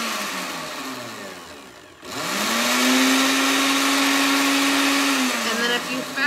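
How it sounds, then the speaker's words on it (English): A kitchen blender pulses paper pulp for plantable craft paper, starting after a brief pause with a steady whirring motor drone that holds for a few seconds and then winds down. "I found that it works better if you pulse your blender"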